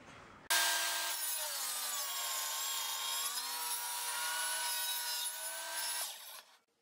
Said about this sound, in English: I hold this piece that I'm planing firmly against my guide here, and just do a rip cut.